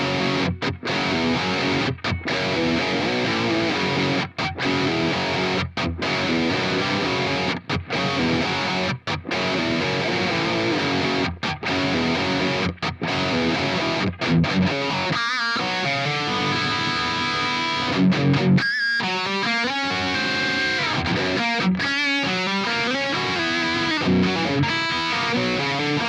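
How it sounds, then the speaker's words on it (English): Heavily distorted electric guitar through a Mesa cabinet plays a dense, loud riff with brief stops and chugging rhythms, thick and saturated throughout, with no voices. "this is the best sound I've ever had out of any Mesa cabinet"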